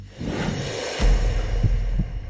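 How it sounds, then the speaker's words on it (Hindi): A heartbeat sound effect in a dramatic scene, with low, muffled thumps pulsing over a steady droning hum and no speech. "दिल की धड़कन तेज हो गई।"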